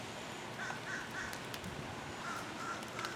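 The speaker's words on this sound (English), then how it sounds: "Yeah, I hear you guys. There's the nest right there for the blackbirds." Blackbirds call near their nest in a garden after rain, with short harsh cries repeated in small bursts at moderate distance over a steady outdoor hiss.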